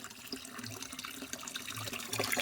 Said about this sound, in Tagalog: Dire-diretso lang yan, hindi yan humihinto, parang gripo.